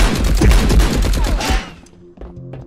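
Rapid shotgun blasts and gunfire in the online shooter Marauders, a dense loud volley of booming shots with debris clatter that cuts off, leaving faint game sounds and a few thumps.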